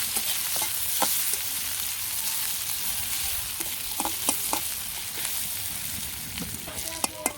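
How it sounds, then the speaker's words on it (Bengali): Chopped onions fry in a pan with a steady broadband sizzle, near and moderately loud, broken by scattered clicks and scrapes of stirring, with no talk. "পেঁয়াজ কুচি দিয়ে দিই পেঁয়াজ একটু ভেজে নিই"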